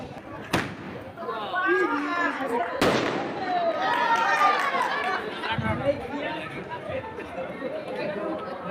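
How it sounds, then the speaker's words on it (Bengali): Fireworks go off at a cricket tournament opening in Savar, with two sharp, loud bangs early on over a steady crowd chatter and people talking throughout. "আরেকটি আতসবাজি ফোটানো হলো"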